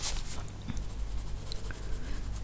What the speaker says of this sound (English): I want to shade those pearls a bit and then set a highlight with the luminance